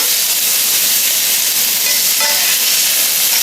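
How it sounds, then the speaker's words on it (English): Loud, steady sizzling and hissing of sofrito frying in a hot pan for Cuban ropa vieja, continuous from start to finish with no voices. "you heard that sizzle. It's working."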